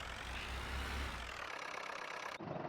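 A tractor engine in the Farming Simulator 19 video game runs with a steady low rumble and drone before cutting away abruptly near the end, with no speech over it.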